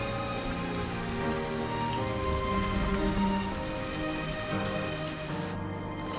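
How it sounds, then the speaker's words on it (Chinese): Heavy rain falls in a steady, even wash of drops on surfaces, moderately quiet and unbroken, with a faint low hum beneath and no voices. "雨下大了，咱们走吧。"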